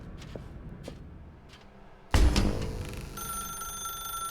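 A telephone rings in The Stanley Parable video game: a sudden loud onset after a quiet stretch, then a sustained, steady electronic ring with no voices.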